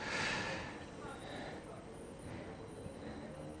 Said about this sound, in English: I'm about to explain what's going on as this train departs here right now